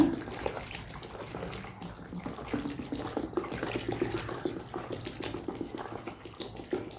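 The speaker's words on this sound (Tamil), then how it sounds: "ஒரு லிட்டர் தண்ணி ஊற்றிக்கலாங்க" Water poured into a homemade liquid detergent mixture made with SLES: a continuous, splashing pour with a gentle gurgle that runs steadily throughout, close by and with no talk over it.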